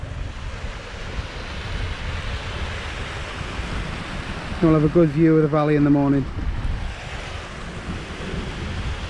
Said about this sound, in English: Here, this little waterfall.